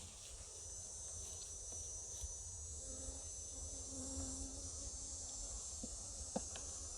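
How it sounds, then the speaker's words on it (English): A wasp buzzes faintly around a beekeeper during a beehive inspection, its thin drone mixing with a steady insect hum outdoors, with no voices. "You have a wasp around you."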